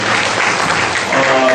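A church congregation at a missionary sending service applauds the pastors' wives, with loud, close, dense clapping filling the short stretch without a break.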